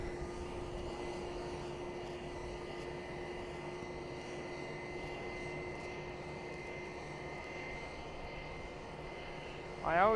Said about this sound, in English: Yes, indeed, that was a plane that was delayed.